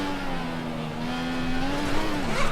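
Racing car wheel spin in the F1 2014 video game: a steady, droning engine tone rises and wavers as the tyres lose grip, growing slightly louder toward the end, with no talk.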